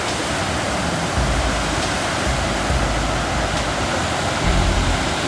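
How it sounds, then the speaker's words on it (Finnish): River rapids rushing in a dense, steady roar of white water, loud and close, with no talking. "Tää miten tää koski kuuluu, kun pyörii"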